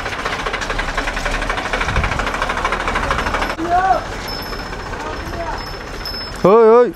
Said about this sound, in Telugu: ట్రాక్టర్లు వెళ్తున్నప్పుడు జాగ్రత్తగా ఉండాలండి బాబు